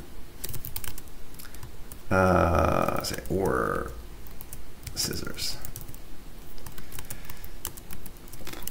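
Keys on a computer keyboard clatter in quick bursts of close clicks, interleaved with someone talking.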